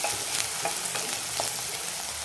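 Chopped onion and spring onion sauté in a pan, giving a close, constant sizzle. Light stirring clicks and scrapes recur throughout.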